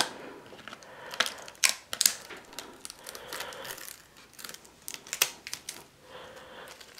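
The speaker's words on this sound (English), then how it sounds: "let's take some of this plastic off here" Plastic wrapping is peeled and crinkled off a new Acer C720 Chromebook during unboxing: close, irregular bursts of crackling and rustling with short pauses between pulls.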